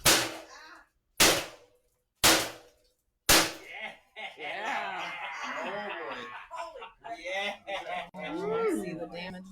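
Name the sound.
switchblade strikes on a bamboo bundle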